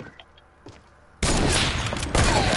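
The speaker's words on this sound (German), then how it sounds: "Ich hatte zwei Schüsse und ich habe beide verfehlt." Quiet clicks give way to a sudden burst of dense, loud rapid gunfire that continues without pause to the end.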